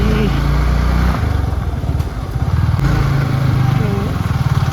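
Off-road motorcycle engine running on a mountain road at night, a loud steady throbbing that rises and falls through the whole stretch while people talk over it.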